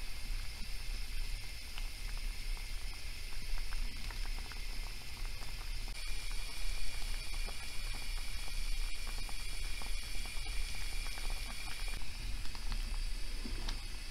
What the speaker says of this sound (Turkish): patlıcanlarımı kaynayan suya ilave ediyorum